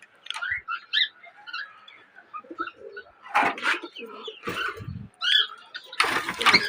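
Pigeons set out in the sunshine coo in soft, repeated throaty phrases nearby, with a few louder rustling bursts and wing or cage noises breaking in between the calls.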